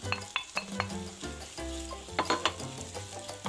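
Onion sautéing for a Filipino chicken curry, a close sizzle broken by clattering strikes and scrapes of a utensil against the pan in an uneven rhythm, no talk.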